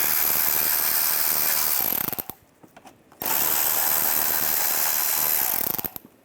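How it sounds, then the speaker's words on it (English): Ratchet wrench with a 7mm socket backing out bolts on a Chevrolet turbo heat shield, two bursts of rapid clicking ratcheting separated by a short pause, close and loud. "Using a 7mm socket, we'll take these bolts out up here."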